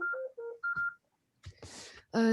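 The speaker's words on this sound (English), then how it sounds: "Sorry, my phone is calling." A mobile phone goes off during a conference keynote, giving a short run of electronic melodic beeps. A brief noisy burst follows, then a louder sustained electronic tone, all close to the microphone.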